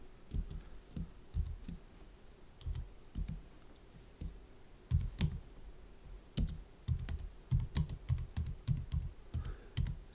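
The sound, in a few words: typing on a computer keyboard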